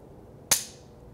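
Dry-fire handgun shot during a low-light flashlight shooting drill: a single sharp click-like report, close and fairly loud, standing alone against quiet background with a short fading tail.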